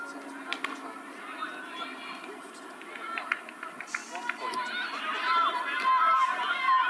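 Spectators murmur and chatter at a women's Division 1 cricket match between Pembroke and Malahide, a steady low crowd hum with scattered voices and light clicks that swells louder toward the end.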